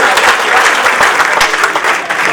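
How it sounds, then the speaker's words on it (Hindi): Loud, dense applause from an audience at a Hindi comic poetry performance fills the whole moment, steady clapping without a break. "एक बार जोरदार तालियां हो जाए"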